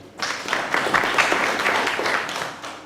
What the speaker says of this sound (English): A hand of applause for her, please.